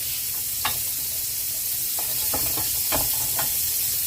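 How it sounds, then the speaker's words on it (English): Butter melting in a skillet for toasting sandwich buns, a loud, steady close sizzle with a few light scraping strokes scattered through it. "So on a skillet, we're just going to melt some butter."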